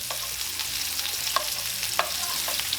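Red onions sauteing in canola oil in a pan give a close, steady sizzle and frying crackle, with a few brief stirring clicks and scrapes, and no voices.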